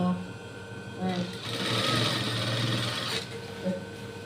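A sewing machine stitching a bolster pillowcase whirs in a short close burst of roughly two seconds, with quieter handling before and after and a voice talking around it.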